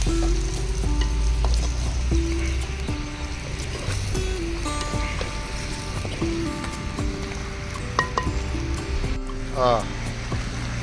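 Onions frying in hot oil in a pan for a pond-fish curry, a continuous bubbling sizzle with occasional stirring scrapes and clinks, close and moderately loud, with faint background noises.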